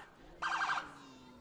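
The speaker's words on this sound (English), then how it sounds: "Fargo Police is throwing off a little bit of the siren action for everybody." A Fargo police car gives a short, loud siren whoop while clearing the route at a holiday lights parade, a single burst of under half a second over a quiet street background.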